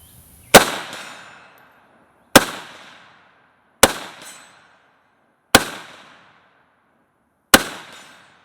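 Five single gunshots from a PSAK GF3 12.5-inch pistol fired at steel plates, each a sharp loud crack with a ringing decay, spaced about one and a half to two seconds apart, with no talking.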